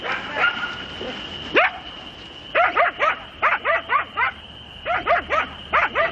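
A dog barks in quick, high yips, several bursts in clusters, close and clear over a faint steady hum.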